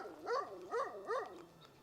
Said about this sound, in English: we're approaching another dog barking at the fence